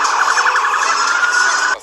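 A police car siren wails loud and close, a steady rapid warbling tone that holds for under two seconds before cutting off abruptly, during the Los Angeles riots.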